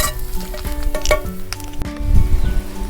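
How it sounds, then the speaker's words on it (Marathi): Onion and garlic sizzle loudly in a hot pan, with steady crackling frying broken by clinks and scrapes of a utensil stirring against the metal. "आता याच्यामध्ये ना कांदा टाकून घेते"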